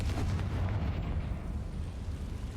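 A Confringo fire spell in Hogwarts Legacy erupts in a heavy, booming explosion right up front, its rumble rolling on and fading slowly with no voices over it.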